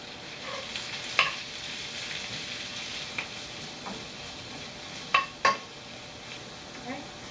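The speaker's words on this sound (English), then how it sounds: "we're going to saute these until they get translucent, and then we'll add the spinach" Onions sautéing in a pan before spinach is added, a soft steady sizzle under occasional utensil scrapes and clinks against the pan, close and fairly quiet, with no talking.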